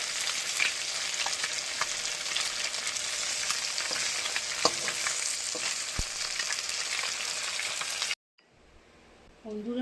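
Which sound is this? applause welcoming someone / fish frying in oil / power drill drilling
fish frying in oil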